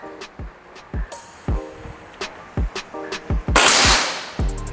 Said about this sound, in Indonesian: Ini tembakan yang keempat.